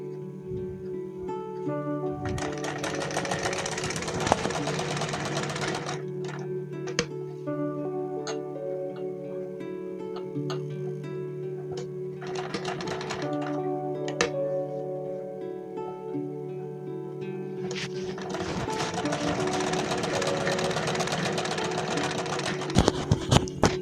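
A sewing machine stitches the waistband of a baby salwar in several bursts of rapid, close mechanical chatter, separated by quieter pauses filled with faint ticking.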